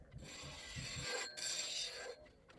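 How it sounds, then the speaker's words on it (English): Short scraping strokes of a woodturning tool being sharpened, dulled from cutting through glue, a few quick rasps followed by steady grinding hiss, faint and close. "That little sound was me sharpening my tool"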